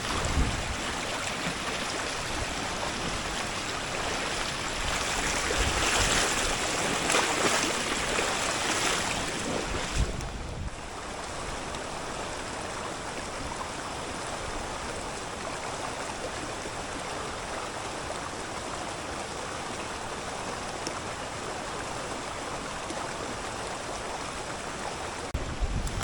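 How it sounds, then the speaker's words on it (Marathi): Steady, heavy rush of a swollen, flooded river in the Konkan countryside, broad and continuous, with a louder surge in the first ten seconds that then settles to a constant roar. "नदीला पाणी बघा किती वाहते, जबरदस्त. भरपूर पाणी आलेलं आहे नदीला."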